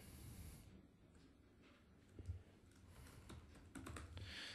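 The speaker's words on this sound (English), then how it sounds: "And we'll just type in content." Someone types on a computer keyboard, producing quiet, irregular clicks and short bursts of keystrokes that sound faint and close up, with no talking.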